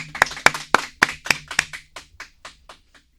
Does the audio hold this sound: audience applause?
yes